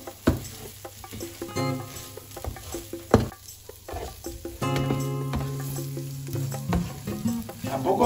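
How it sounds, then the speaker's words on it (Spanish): Rice sautéed in a sofrito for a cod and artichoke rice dish, close pan sizzle with intermittent spoon scrapes and stirring clatter, louder frying in the second half, no talk. "el sofrito está, vamos, listo para recibir otro componente, que va a ser el arroz. Lo sofreiremos un poquito"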